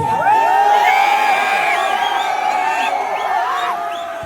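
A large political rally crowd in Madhubani, Bihar chants and cheers loudly, massed voices and whoops swelling together, with a strong lead voice calling out over the throng.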